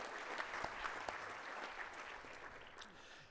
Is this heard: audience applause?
yes